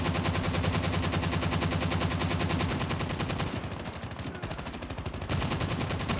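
LK24 assault rifle in Call of Duty Mobile fires in sustained rapid automatic bursts, loud and dense, with a brief dip and gap midway before the fire resumes.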